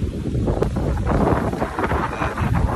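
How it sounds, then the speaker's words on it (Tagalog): Strong, steady wind roaring and buffeting the microphone near a house tarp, a dense rumbling rush with no pauses. "Sobrang lakas na hangin ngayon."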